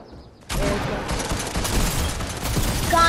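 Gunfire in the Fortnite video game, with sustained rapid shooting that starts abruptly after a quiet half second and stays loud and dense throughout, and a voice briefly audible near the end.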